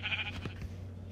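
A color-changing sheep in a video game gives a short bleat, a brief wavering call over a steady low background hum.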